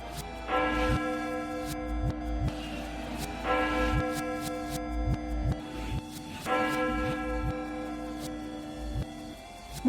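A large church bell dubbed the Doomsday Bell strikes three times in a slow, even rhythm, each loud ringing toll sustaining a long humming tail before the next.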